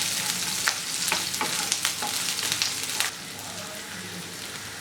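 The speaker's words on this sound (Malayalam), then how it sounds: "ഇതൊന്ന് നന്നായിട്ട് വഴറ്റി കൊടുക്കാം" Small onion pieces sauté in a pan for Kerala beans thoran, a steady close sizzle broken by crisp scraping stir strokes, briefly quieting toward the end, with no talk.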